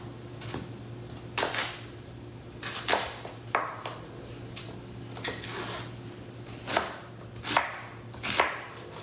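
A knife chopping an onion on a cutting board, with close, crisp knocks spaced irregularly at about one per second over a faint steady kitchen hum, no voices.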